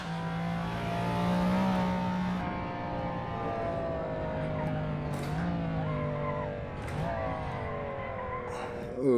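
McLaren F1 engine lapping the Nordschleife in the Assetto Corsa racing game, a high revving howl that climbs and drops through gear changes and corners, steady and prominent with occasional speech over it.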